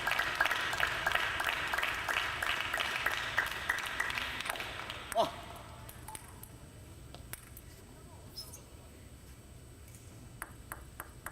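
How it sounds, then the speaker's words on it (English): Team USA players cheering and clapping for a point at a youth table tennis championship in Charleston, a dense burst of rapid claps and shouts for about five seconds that fades into hall ambience with scattered ball pings. "Team USA cheering the first point of the game for Daniel Tran."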